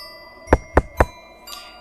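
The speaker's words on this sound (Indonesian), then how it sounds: "Kembali pintu itu ada yang mengetuk dari luar." Three sharp knocks on a door land in an even, quick rhythm, close and distinct, followed by a faint rustle. The knocking is a sound effect for a horror story.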